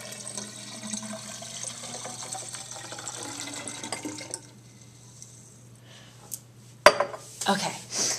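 Water is poured into a density column in a classroom demonstration, a long steady pouring wash followed by a few sharp clinks and knocks of glassware near the end.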